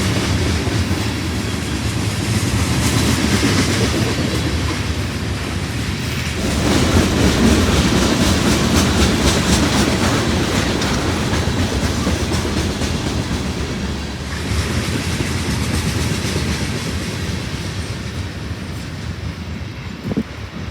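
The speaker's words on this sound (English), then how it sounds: "As the BNSF train rolled off into sight" A BNSF freight train rolls past with a loud, sustained rumble and rhythmic clickety-clack of wheels over rail joints, easing slightly toward the end.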